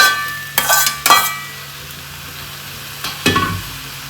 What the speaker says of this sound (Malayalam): ഇനി ഇത് നല്ലതുപോലെ മിക്സ് ചെയ്യാം